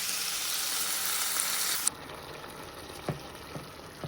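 Onions fry in a pan with a loud, hissing sizzle for the first couple of seconds, then settle into a quieter simmer broken by a few scraping stirs.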